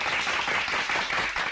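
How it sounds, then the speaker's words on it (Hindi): A crowd claps together at a rally, giving steady, dense applause that holds evenly for the whole short stretch with no voices over it. "बजाओ ताली"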